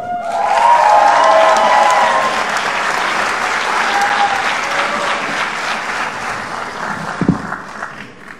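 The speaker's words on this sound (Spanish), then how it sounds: "Ahora invitamos, por favor, con fuertes palmas a Ricardo de Pixet." An audience at a pitch competition, the Desafío Kunan, breaks into loud sustained applause that swells early and then slowly thins, with a brief thump near the end.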